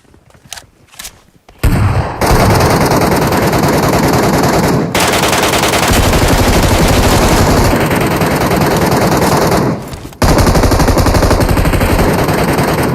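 Sustained, loud automatic gunfire in the Metro Royale shooter game, a dense continuous burst that briefly breaks off and resumes, up close with no talk.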